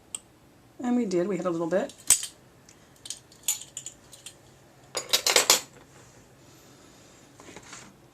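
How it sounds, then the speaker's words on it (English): Smouldering incense is stirred inside a wine glass, producing a few sharp clinks and a rapid cluster of rattling taps against the glass, with a brief spoken line in between. "I'm going to give a little stir to see if we have any fire left that we can rejuvenate."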